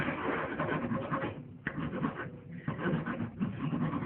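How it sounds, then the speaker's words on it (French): Hand filing on a metal part being fitted in a mechanical workshop, a steady raspy rubbing of repeated file strokes, close and fairly loud, with a short pause partway through. "donc je viens encore limer."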